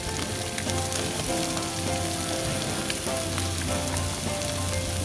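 Pork belly browns in a hot pan with Korean chili powder, giving off a steady, dense sizzle and crackle that runs unbroken throughout, close and fairly loud, with no voices.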